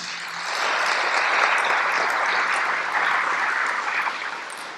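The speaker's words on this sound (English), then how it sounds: "Can we give all the veterans a big round of applause?" Sustained applause for military veterans at a Veterans Day ceremony in Gloucester County, a dense wash of clapping from a large crowd that swells in after a moment and holds steady, with no talking.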